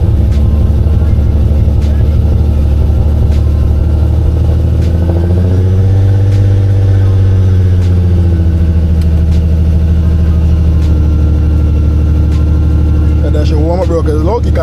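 Supercharged 700-horsepower Infiniti G37 engine, loud and steady with a low droning rumble that swells and falls in pitch as it rises through the revs and settles back. A cold back road, with brief clicks near the end.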